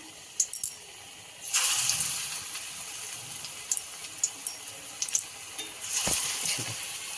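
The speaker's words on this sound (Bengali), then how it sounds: "এই যে বড়াগুলো ভাজা হচ্ছে" Drumstick flower fritters fry in hot oil with a soft steady sizzle, punctuated by louder crackling bursts as batter drops in and utensils clink, fairly close and otherwise without talk.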